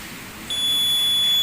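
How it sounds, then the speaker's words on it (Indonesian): A buzzer on a homemade gas-sensor fire detector switches on partway through and holds a steady, piercing high tone until the end, loud and close over faint background hiss. "Dan buzzernya akan menyala."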